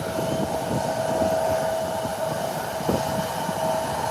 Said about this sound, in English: The Amber 145 rather. And the nose up. And it's away. Another beautiful takeoff.